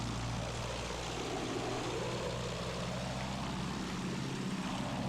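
A World War I propeller plane drones in flight in the Battlefield 1 video game, a steady, loud engine roar that stays even for the whole stretch with no speech over it.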